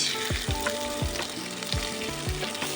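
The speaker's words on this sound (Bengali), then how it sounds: "তেলটা গরম হয়ে গেলে দিয়ে দেবো চারটে কুচিয়ে রাখা পেঁয়াজ" Four chopped onions go into three tablespoons of hot white oil in a kadai and sizzle continuously, with close, sharp crackles and pops popping through the steady hiss. No one talks.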